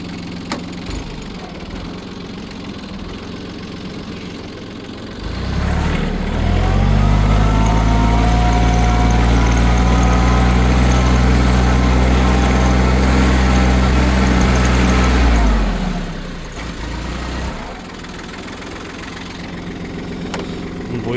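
A tractor plowing late in the season, in late May, idles low, then revs to a loud, steady roar for about ten seconds before dropping back to a quieter idle, with no voices.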